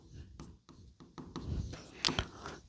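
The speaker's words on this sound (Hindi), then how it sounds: "तो हम ये लिखते हैं" Chalk or marker writes on a board during a physics lesson on light refraction. Short, close scratchy strokes come in an irregular rhythm, with a sharper stroke near the end, and no voice over them.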